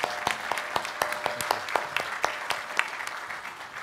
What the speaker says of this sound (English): how about a round of applause for our presenters?